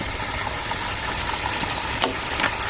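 Pork stir-frying over a campfire while camping in the woods, with a steady loud sizzle and occasional scraping stirs and clinks throughout, and no voices over it.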